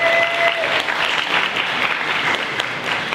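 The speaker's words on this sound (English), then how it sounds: "So give everyone a round of applause for all your speakers today" Loud, sustained clapping from an audience honouring the speakers of an engineering panel, a dense even roar of hands close by with brief electronic tones at the start.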